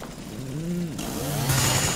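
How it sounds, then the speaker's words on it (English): Chainsaw in the Resident Evil 7 video game, cutting into steel: a loud, close engine buzz that wavers in pitch, then bites in with a harsh grinding roar. "I don't know, can chainsaws cut through steel?"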